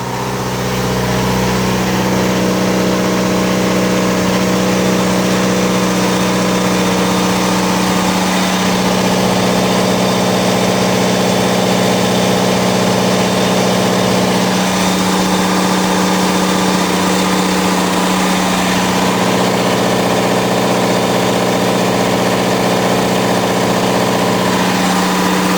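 An Onan DJC generator engine runs steadily on gasoline under roughly 7 kilowatts of load, a loud, constant mechanical drone with a deep hum that holds throughout with only slight shifts in tone.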